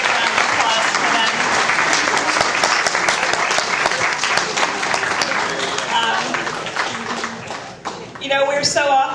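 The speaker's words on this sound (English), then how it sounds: "Join me in a big round of applause for them." An audience at a panel Q&A session applauds the guests with loud, sustained clapping that thins out near the end, with a few voices and cheers mixed in.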